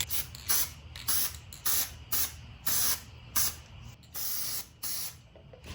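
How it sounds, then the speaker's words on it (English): Sandable primer sprayed from an aerosol can onto bare metal on a 2006-10 Dodge Charger Daytona trunk, heard as about ten close, loud hissing bursts of roughly half a second each, separated by short pauses. "Just got some sandable primer. I'm gonna put a few coats on there."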